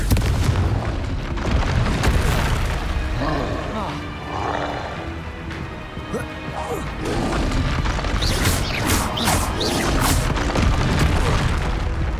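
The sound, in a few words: Confringo blasting spell explosion, from the video game Hogwarts Legacy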